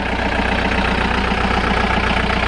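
A 2009 John Deere 4320 Hydro compact tractor with a quick-catch bucket, PTO and three-point hitch idles steadily nearby, a loud, even diesel rumble with a regular low throb and no voices.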